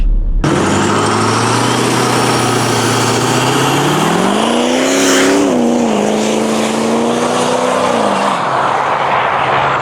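A heavily boosted, unreliable truck running around 30 psi of boost accelerates hard from a standstill, its engine roaring loud and steady as it climbs through gears with rising, shifting pitch, close and unbroken throughout.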